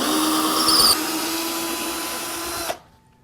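A power drill backs a screw out of a foam rock panel base with a loud, steady, high whine up close, its pitch shifting slightly partway through before it stops abruptly.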